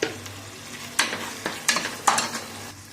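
A kilo of minced meat sizzles in oil with cardamom, cloves and cinnamon, stirred with a few sharp scraping strokes over a steady, close, low fry.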